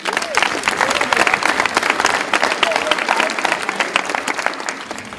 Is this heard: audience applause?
yes